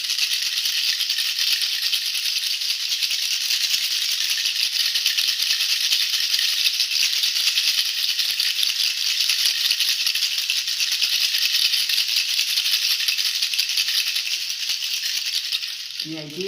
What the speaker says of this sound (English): I'm going to use a rattle.